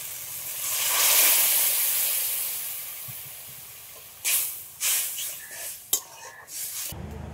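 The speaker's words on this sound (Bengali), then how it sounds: "এবার আমি জল দিয়ে দিচ্ছি।" Water poured into a pan of sizzling prawn masala, a loud rushing hiss that swells and fades, followed by a few sharp clinks and stirring sounds.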